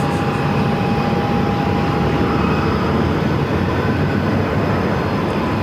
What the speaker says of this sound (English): 2737 coming in from Dallas on a 737-700